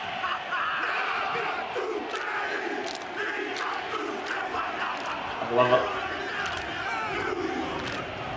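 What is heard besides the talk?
rugby team performing haka war chant, Rugby World Cup final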